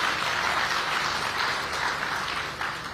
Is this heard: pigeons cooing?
no